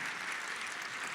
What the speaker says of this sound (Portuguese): Grande professor André, salva de palmas para ele